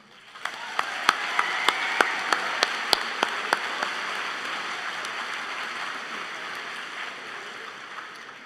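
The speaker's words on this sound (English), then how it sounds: "by giving them a round of applause from everyone here" A graduation ceremony crowd breaks into steady, dense applause, with a few sharp individual claps standing out early on before it slowly thins toward the end.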